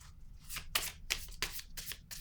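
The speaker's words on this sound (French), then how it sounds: "Je vais piger une autre carte ici." Tarot cards being shuffled and drawn by hand, a run of crisp riffling bursts and papery slaps in an uneven rhythm, close and fairly quiet, with no talking.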